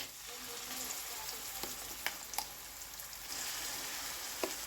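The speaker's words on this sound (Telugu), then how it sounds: "ఈ పచ్చడి అంతైతే ఇంకా దీంట్లో పోపు వేసుకుంటున్నాను" Oil tempering spluttering in a pan for brinjal chutney, a continuous moderate sizzle with scattered sharp pops and crackles from the seasoning, no voices over it.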